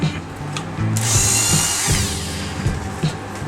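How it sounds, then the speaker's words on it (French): Power drill countersinking a screw hole in a beech birdhouse: a short motor whine rises in pitch as the bit bites into the wood, then winds down amid a few low knocks and clatters, close and moderately loud. "Donc là je vais faire un petit fraisage pour que la vis ne dépasse pas"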